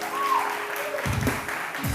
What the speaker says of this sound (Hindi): किरण के लिए बहुत सारी तालियां